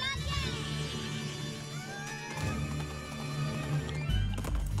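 Horse calls and clip-clopping hooves from the Princess Peach Showtime video game, a wooden horse in a Wild West cowgirl stage, play loudly amid game music and effects, with a person talking over them.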